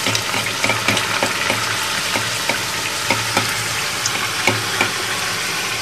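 Semolina puris frying in a hot wok of oil for pani puri, a steady bubbling sizzle with small crackles and occasional sharper pops and stirring clicks, close and continuous.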